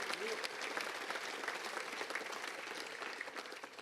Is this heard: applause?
yes